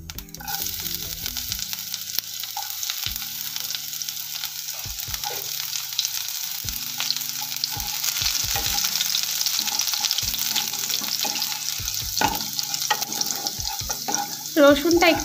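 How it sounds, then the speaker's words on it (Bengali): Chopped garlic frying in hot oil with cumin seeds, a close, steady sizzle with occasional stirring scrapes and knocks, no voices. "এবার দিয়ে দিচ্ছি রসুন কুচিটা।"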